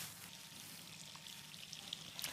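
Steady, soft sizzling and crackling of butter melting in a hot pot, with a few faint pops and no voices.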